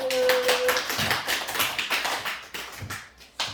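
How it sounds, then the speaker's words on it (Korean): A group claps in celebration at a church school children's department Easter gathering: a brisk, fairly close run of hand claps lasting a few seconds, thinning out toward the end with no voices over it. "축하의 박수"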